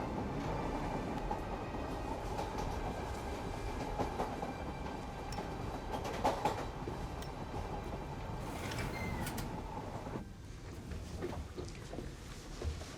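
A train rolling along the rails with a steady rumble and rhythmic clatter, some squeals and clicks over the continuous noise.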